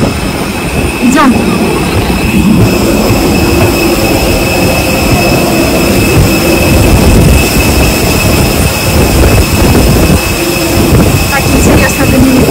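Jet airliner engines roaring at an airport while passengers board, a loud continuous whine and rumble with people talking over it.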